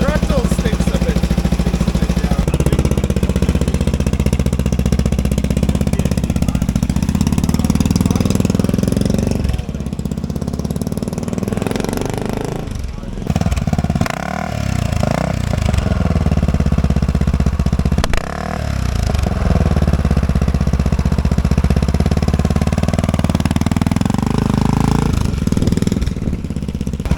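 A 1979 Honda XL 500 motorcycle with a sticking throttle runs loudly and steadily up close, its engine note rising and falling through revs with brief dips, while people talk over it.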